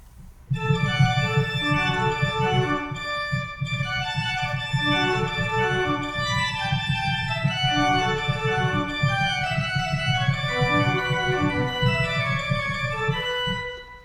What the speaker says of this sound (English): if I play the opening the old way, all in one keyboard, it sounds like this